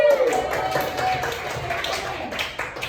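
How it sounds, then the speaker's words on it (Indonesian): Applause from a classroom group during a poetry lesson, a scattered patter of hands under faint voices, steady and moderately loud throughout. "Beri tepuk tangan"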